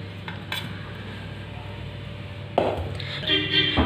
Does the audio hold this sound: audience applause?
no